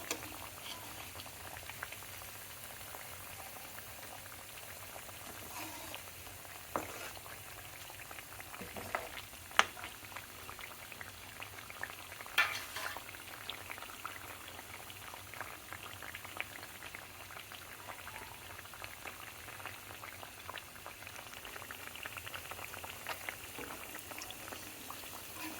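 Khajoor sweet dough pieces fry slowly in oil over a medium flame, a steady soft bubbling sizzle that runs quietly throughout with occasional faint pops.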